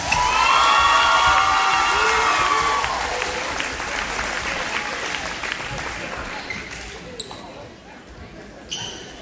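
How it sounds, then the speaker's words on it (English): A crowd at a varsity boys basketball game applauds and cheers for seniors, with loud clapping and whoops that taper off, joined near the end by a few isolated claps and thuds. "Let's please give both of these seniors a round of applause."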